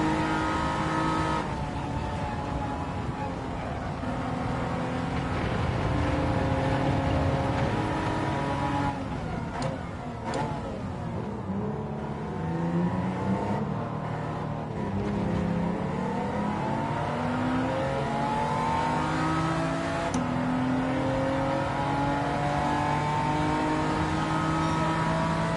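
Aston Martin race car in a racing video game accelerating through long gears, its engine droning loud and continuous with rising pitch sweeps as revs climb and shift, no talk over it.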